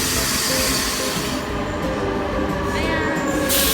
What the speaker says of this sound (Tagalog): Padating na yung train.